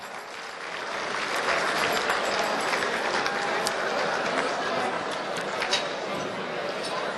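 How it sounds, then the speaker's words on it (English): A large dinner crowd gives waiters and waitresses a big round of applause, sustained dense clapping swelling after the first second and holding loud throughout, with faint voices mixed in. "Can we give the waiters and waitresses a big round of applause"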